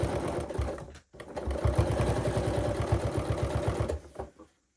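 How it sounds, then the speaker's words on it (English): A sewing machine runs in two close bursts separated by a brief pause, its needle hammering in a fast even rhythm as it stitches forward and back on a dress seam, then winding down to silence. "Let me stitch a little bit forward and backwards."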